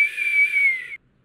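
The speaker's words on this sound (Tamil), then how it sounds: "நீ விசில் அடிப்பியா?" One sustained, steady whistled note from a person, held for about a second and then cut off sharply, close and clear with no speech.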